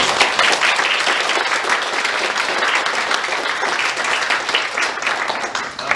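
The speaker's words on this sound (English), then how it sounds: "let me just offer a round of applause for our panel" A conference audience applauds a panel on Taiwan's security challenges, a loud, dense, continuous wash of many hands clapping that fills the whole stretch without a voice over it.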